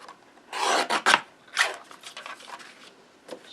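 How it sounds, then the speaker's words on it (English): A small mini paper trimmer slices through folded card for a handmade scrap card, giving a few close, short raspy cutting strokes in quick bursts, then a couple of fainter scrapes. "Bring my little mini trimmer here. Cut it right on that fold."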